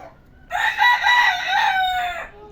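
A rooster at a zoo crows loudly and close while chasing hens, a long rising and falling call that holds for nearly two seconds before breaking off.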